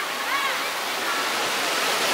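Steady rushing water pours continuously down a blue water slide at an Arizona water park, loud and close, a constant broadband wash with no pauses.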